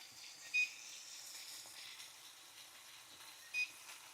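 A faint, steady sizzle of taco filling cooking in a frying pan runs throughout, with two short electronic beeps a few seconds apart.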